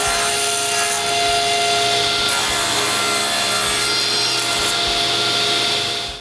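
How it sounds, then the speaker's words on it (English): A table saw cutting wood pieces at a mitre station, giving a continuous loud, steady whine and rasp of the blade through the wood with no pauses, dropping away only at the very end. "I use my table saw for this"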